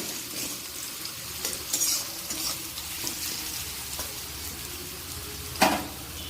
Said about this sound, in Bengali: দিয়ে একটু ভালো করে আবার ভেজে নেব